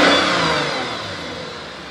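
A 2009 Lexus IS 350 engine, heard from under the opened hood, revs up loudly and then winds down, its roar fading steadily toward a lower, smoother running note.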